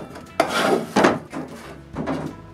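A handmade wooden drawer slides in and out of its opening, giving three or four scraping, rubbing bursts of wood on wood at close range with short pauses between them.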